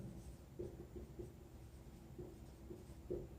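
Pen on paper writing out a number by hand for a maths exercise, a few light taps and short strokes spaced irregularly, close and quiet with no speech.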